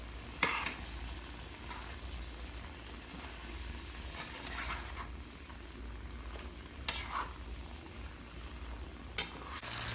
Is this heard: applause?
no